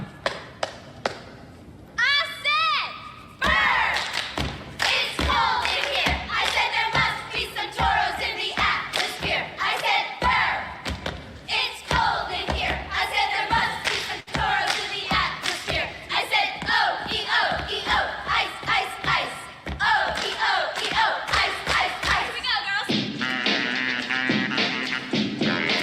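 A recorded crowd belts out a cheer, with loud rhythmic chanting, shouting and clapping running continuously for most of the stretch, with a brief voice near the start.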